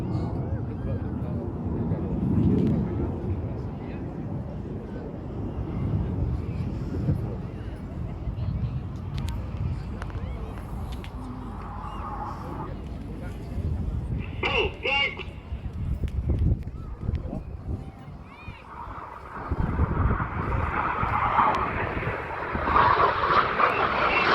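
Red Arrows jets roar past at an air festival, the synchro pair closing at speed and rolling, engine noise surging and fading loud and near while an announcer talks over the display.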